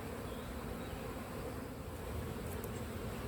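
A steady, low drone of honeybees rises from an open hive in an apiary, an even, unbroken buzz held for a few seconds with no voices.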